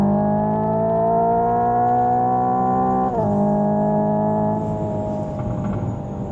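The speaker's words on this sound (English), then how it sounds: "Downshifting blips, that's awesome." The 2025 Hyundai IONIQ 5 N's synthesized engine sound drones loudly and steadily, its pitch rising slowly and then dropping sharply at a simulated downshift blip before settling into a rougher grumble, heard from inside the cabin without talk.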